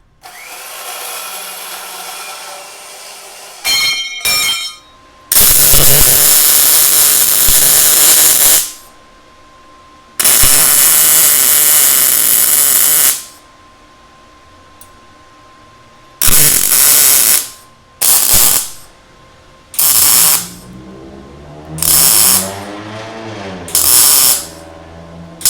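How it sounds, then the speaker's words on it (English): Welding on a Vise-Grip square shank bar clamp comes through as loud, sustained crackling bursts of several seconds each, followed by shorter spurts separated by quiet pauses. "So now I'm going to finish weld everything."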